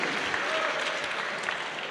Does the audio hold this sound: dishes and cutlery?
no